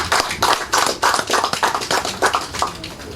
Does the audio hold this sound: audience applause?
yes